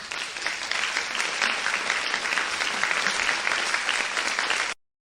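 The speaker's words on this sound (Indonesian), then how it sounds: "Mari kita beri tepuk tangan lagi untuk Laras." Steady applause from an audience at an accounting department award ceremony, dense and continuous for several seconds before ending abruptly.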